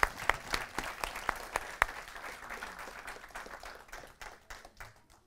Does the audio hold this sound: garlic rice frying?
no